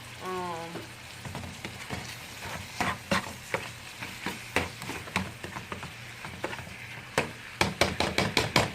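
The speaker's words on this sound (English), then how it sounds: "so I'm gonna do garlic powder. Stir that around." Garlic powder stirred into food cooking in a pan for baked spaghetti, with soft sizzling under a string of scraping, tapping strokes from a utensil that come quicker toward the end. A short bit of speech is heard at the start.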